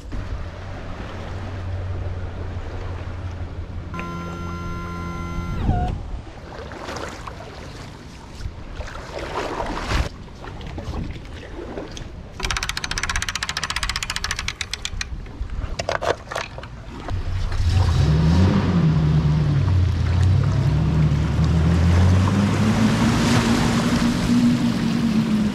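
Homemade Trashliner boat running on water: steady hull and water wash with wind, a brief tonal whine early, then a louder engine drone with rising and falling pitch toward the end, continuous and fairly close.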